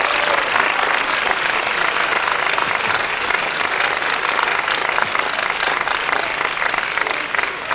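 A large school audience claps at a Last Night of the Proms concert, a massive, dense and continuous round of applause that stays loud and even from start to finish.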